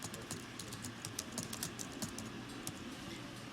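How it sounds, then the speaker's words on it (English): Keys on a computer keyboard are tapped in quick, even bursts, nearby and fairly quiet, with no speech over the clatter. "I can type to enter my text"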